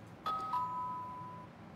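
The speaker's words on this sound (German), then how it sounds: "Bim bam, es hat geklingelt." A two-tone ding-dong doorbell rings in a German radio play, with two clear chimes sounding close and alone and then fading out slowly.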